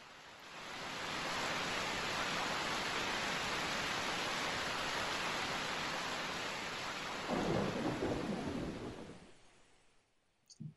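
Thunder and steady heavy rain from the game Far Cry 3, a dense continuous roar of downpour with low rumbling, swelling briefly louder near the end before fading out.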